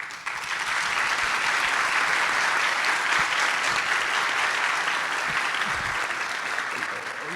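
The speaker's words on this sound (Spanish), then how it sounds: "merecen verdaderamente un gran aplauso en este punto" Sustained audience applause at a book launch marking 80 years of the guaraní currency, a full room clapping loudly and evenly for several seconds with scattered voices beneath the clapping.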